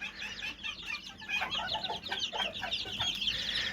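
A flock of chickens and roosters, including young İspenç pullets, clucking steadily, many overlapping calls close by with no pauses.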